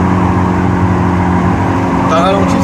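A stage 3 tuned car engine roars loudly and steadily at close range, its pitch rising toward the end, while people talk over it.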